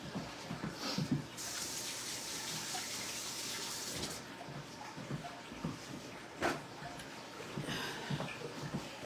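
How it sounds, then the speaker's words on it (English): Running water splashes steadily from a tap, with brief louder gushes and clatters as hands move under the stream. "Let me get my hands rinsed."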